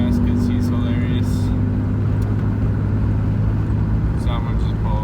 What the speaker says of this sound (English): there's a car coming up behind me now